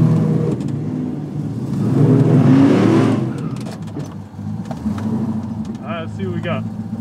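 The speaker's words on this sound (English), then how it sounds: "I don't even know if this thing will do a burnout." A 900 hp 1969 Camaro restomod at a drag day idles with a rough, loud growl, swells into a hard rev, then settles back to a rumbling idle while people talk nearby.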